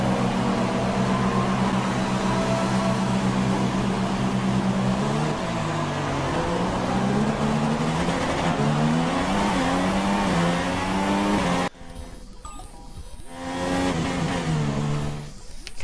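In F1 2016 at Spa, a Formula One car's engine whines loud and close as it pulls out of the pits. Its pitch steps upward through gear after gear, then cuts briefly before revving again.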